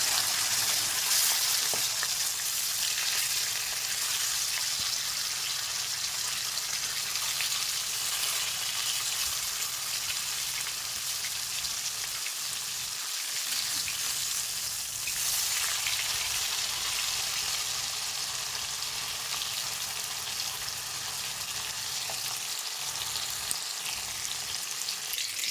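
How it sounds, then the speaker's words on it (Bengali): Turned-over fish frying in oil, a continuous loud hissing sizzle that holds steady for the whole stretch with occasional soft knocks, no one speaking. "মাছ ভাজা হয়ে গেছে, এবার তুলে নেব।"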